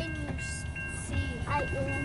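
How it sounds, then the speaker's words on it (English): A long CN northbound intermodal mixed freight train rolls past with continuous rumbling and squealing wheel tones, fairly distant, while people talk over it. "Is this train gonna end soon?"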